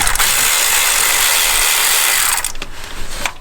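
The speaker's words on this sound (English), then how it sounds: "and then we can start unbolting it from the back." A power tool whirs loudly and steadily while unbolting the starter from a BMW E9X M3, then cuts off, leaving a few softer metallic clanks.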